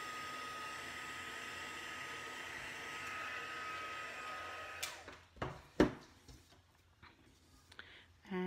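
A heat tool warms ink on a handmade folded aperture card, giving a steady, even blowing hiss for about five seconds before cutting off. A few short knocks and handling sounds follow, with a brief burst at the end.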